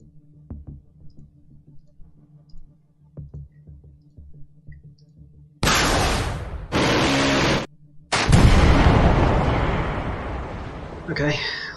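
Weapon fire in the modern military game Command: Modern Operations, with a few quiet clicks, then three long, loud roaring blasts of launch noise, each separated by a brief gap.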